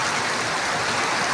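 Heavy rain pouring down outdoors, a steady dense broadband hiss of falling water, loud and continuous throughout with no talking.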